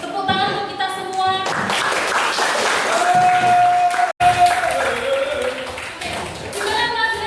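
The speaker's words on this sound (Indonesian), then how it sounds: "Tepuk tangan untuk kita semua" Children in a classroom clap together at the end of a lesson, a steady burst of applause mixed with a sustained tone and voices, briefly cut off partway through before resuming.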